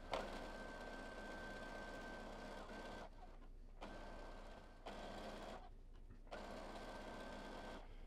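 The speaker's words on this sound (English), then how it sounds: "I'm going to do a stitch all the way until we run out of fabric." A sewing machine runs steadily, stitching along a length of fabric for a button-down shirt, with a continuous whirring motor drone broken by two short pauses before it resumes.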